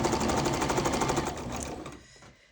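A roughly 30-year-old Kenmore sewing machine runs at a fast, steady mechanical rattle close by, then slows and winds down to a stop.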